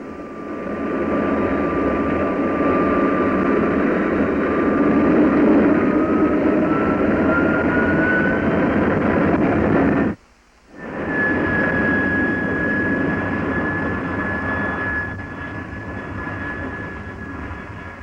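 A T-33 Shooting Star jet taking off for a shakedown flight, its loud, sustained engine roar and rising whine filling the air, briefly cut off before resuming and slowly easing.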